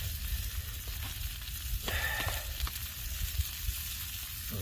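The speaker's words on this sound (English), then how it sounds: "how's my steak doing here? Cooking slowly." Steak cooks slowly beside potatoes and onions over an outdoor campfire, giving a soft continuous sizzle and crackle with a faint low rumble of fire and occasional small pops.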